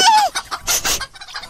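Cartoon chicken from the animated series Upin dan Ipin clucking in quick, close bursts, with a rising squawk at the start and choppy broken clucks that follow.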